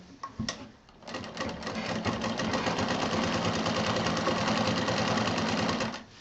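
A sewing machine stitches a fabric strap onto a small DIY tour bag. After a few brief clicks it runs steadily and loudly for about five seconds, then stops, with no talking.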